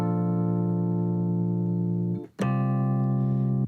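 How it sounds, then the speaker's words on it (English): Rhodes electric piano from Keyscape sustaining a warm chord, held steadily for about two seconds, then briefly cut and struck again for another held chord. "This is Rhodes from Keyscape"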